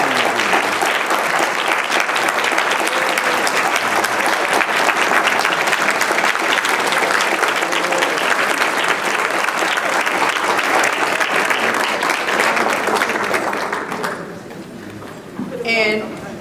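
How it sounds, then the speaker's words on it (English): Strong, sustained audience applause honoring young people at an evening event, a long unbroken wash of clapping that tails off abruptly near the end into quieter room noise. "Please, let's give them another round of applause."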